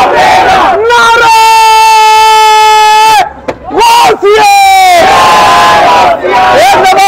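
A loud, close crowd chants slogans in unison at Ghousia Nalli Biryani in Karachi, with sustained shouted calls that break off and start up again over steady crowd noise.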